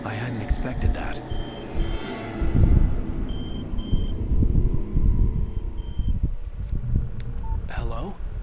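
A telephone rings in Alan Wake Remastered, with repeated bright electronic bursts separated by pauses, set against a rumbling ambient game soundscape.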